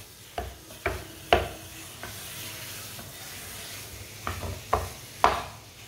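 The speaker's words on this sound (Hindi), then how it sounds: "खजूर को ना 2-3 मिनट के लिए पका लेंगे, खजूर हमारी नरम हो जाएगी।" Dates cooking in a pan over low heat, stirred with a spoon: a soft steady sizzle with several distinct scraping stir strokes scattered through, close and quiet, no voices.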